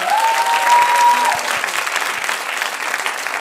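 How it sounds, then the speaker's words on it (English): Audience applause and cheering at a live stand-up comedy show in Munich, steady and loud throughout, with a brief whistle near the start. "Clap harder."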